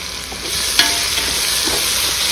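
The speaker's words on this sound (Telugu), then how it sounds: "ఇప్పుడు ఇందులో మెంతికూర వేసేస్తున్నాను" Fenugreek leaves dropped into hot oil in a pan while cooking a soya vegetable pulao, giving a loud, steady sizzle and hiss, with one brief clink of the stirring spoon early on.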